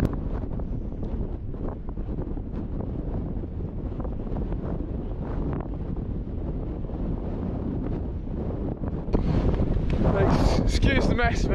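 Strong wind on a Scottish mountain ridge at Stuchd an Lochain roars and buffets the microphone continuously, growing louder and harsher near the end, with no speech over it.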